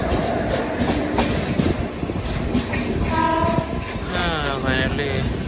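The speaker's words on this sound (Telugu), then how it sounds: "గూడ్స్ ట్రైన్ అనమాట." Steel wheels of a passing goods train roll and clatter loudly near Bibinagar, with a couple of wavering horn notes rising over the steady rumble toward the end.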